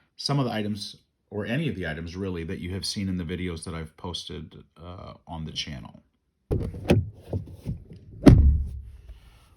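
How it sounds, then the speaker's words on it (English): A person speaks, then after a short pause come a few muffled bumps and one heavy, close thunk of a car door shutting. "that was the sound of a car door closing"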